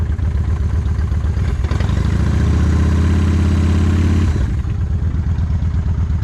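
A warm Harley motorcycle engine runs with the choke pulled out, idling loud and close, then rising to a faster, harder throb for a couple of seconds before dropping back to its rumbling idle.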